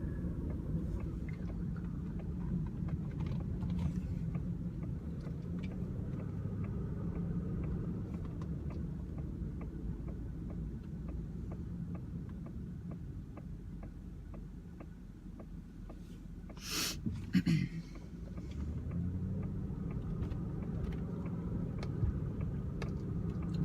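A 2005 Cadillac DeVille with a V8 on a test drive, heard from inside as a steady, low cabin rumble and road noise, broken by a short bump or clatter near the end.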